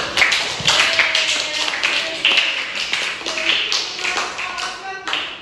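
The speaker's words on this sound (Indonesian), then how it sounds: "tepuk tangan dulu buat Mas Dio." Students in a classroom clapping together, a loud, close burst of brisk, overlapping handclaps that continues steadily and then tapers off near the end.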